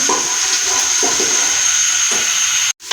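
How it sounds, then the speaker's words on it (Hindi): Onions frying in hot oil until golden brown for beef korma, a loud steady sizzling hiss close up with faint scraping stirs, cutting off abruptly at the end. "प्याज को अच्छी तरह से मिक्स करेंगे और प्याज को गोल्डन ब्राउन करेंगे"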